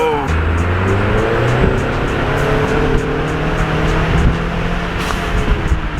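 An EcoBoost Mustang with a vent-to-atmosphere turbo mod revs loudly up close, with a turbo whoosh and fluttering release hiss over a deep rumbling exhaust.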